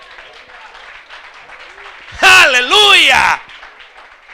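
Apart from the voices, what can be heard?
church congregation applauding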